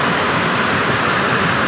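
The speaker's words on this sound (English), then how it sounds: "We're at Salt Creek Falls here on Highway 58." Salt Creek Falls off Highway 58 in Oregon roars as a dense, continuous wall of falling water, loud and close with no breaks or voices.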